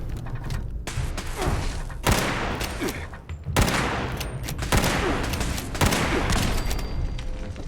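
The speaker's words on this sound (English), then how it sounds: "damn turrets have gone insane, Skinner." Turret gunfire in the game Fallout 76, with repeated bursts of heavy shots and thumping impacts following one another closely. The firing is loud and continuous.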